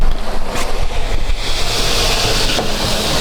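Water pours steadily into a blue plastic drum outdoors, a continuous rushing, splashing wash that stays at an even loudness from start to end.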